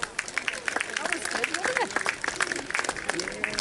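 A crowd at a birds of prey display at Beamish Agricultural Show claps steadily, a dense, fairly close patter of applause mixed with murmuring voices and a presenter talking.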